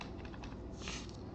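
Keys clatter softly on a computer keyboard as someone types into a search bar, a faint quick run of taps over low background hum.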